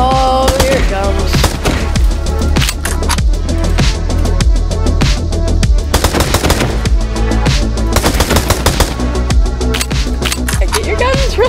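Rapid gunfire and bomb blasts in a video game battle during a super blood moon, a loud dense barrage of machine-gun bursts and thumping booms over pounding music, relentless and close.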